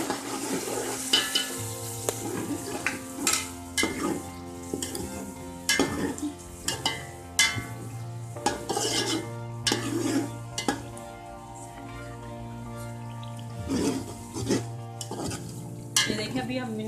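A spoon stirring whisked yogurt into a pot of green chickpea pulao, with repeated scraping and clinking strokes against the pan over a steady low hum, no voices.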